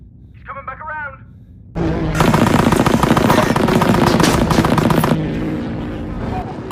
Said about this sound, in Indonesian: Tak lama Charlie kembali tenang dan mulai menembak lagi.